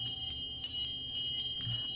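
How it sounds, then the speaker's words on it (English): A gong-like notification chime from a video game lobby rings repeatedly in quick succession, several bright metallic strikes spaced a fraction of a second apart, fairly faint over a quiet background. "I'm gonna destroy that stupid gong"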